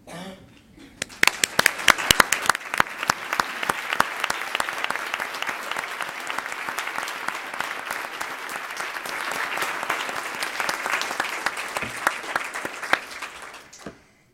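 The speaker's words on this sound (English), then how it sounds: "Would the Harmony Project members in the audience please stand and let us applaud you?" Audience applause at a Columbus Metropolitan Club forum, a steady, fairly close round of clapping that continues for about thirteen seconds before ending abruptly, with individual claps standing out in the mass.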